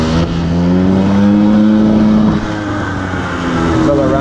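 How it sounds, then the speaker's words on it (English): A nearby motorcycle engine revs up steadily to a high pitch with the clutch in for a power wheelie, holds, then drops back to a lower drone. "we're going to clutch in and gas up"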